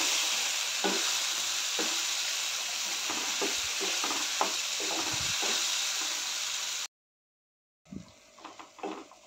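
Green masala paste stir-fried in a pan for a potato and pea curry: a steady close sizzle broken by scraping spoon strokes, cutting to a brief silence before the frying and stirring return.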